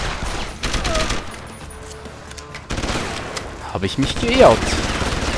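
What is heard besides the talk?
enemies shooting through glass in the video game Deus Ex: Human Revolution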